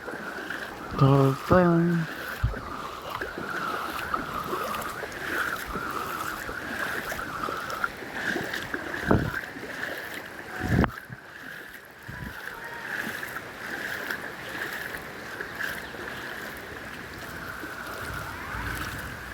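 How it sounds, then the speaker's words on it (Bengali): Fast-moving floodwater flows around a house in steady, continuous rushing, with a voice talking over it and a few brief knocks and thuds. "হ্যাঁ, পুরো এদিকে জল, ওই পাশেও জল, পুরো জল যাচ্ছে"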